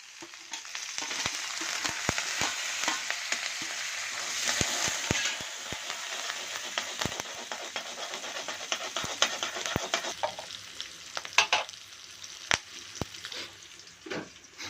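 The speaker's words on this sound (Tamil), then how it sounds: "அதுக்கப்புறம் பருப்பு போட்டாச்சு கொஞ்சம் நல்லா வறுத்து எடுத்துக்கலாம்" Lentils roasting in a pan for lemon rice, a steady dry frying hiss with scattered stirring scrapes and light clicks of spoon against the pan, louder in the first half and thinning toward the end, with no talk.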